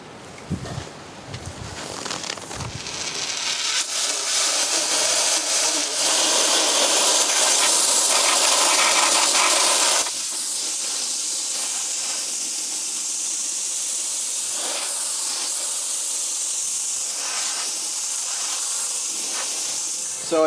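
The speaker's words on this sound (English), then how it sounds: "So let's start blasting." Abrasive blasting with Garnet 360 hits TVR 3000 M exhaust mufflers as a loud, continuous, close hiss. It builds up over the first few seconds and then holds steady, easing slightly about halfway through.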